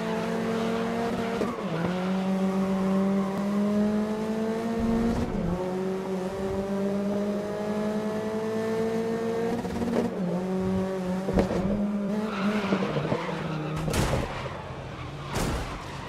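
In a racing video game, a race car engine howls at high revs while tires squeal through a corner, broken by several sharp crashes against the barrier and shifts in engine pitch.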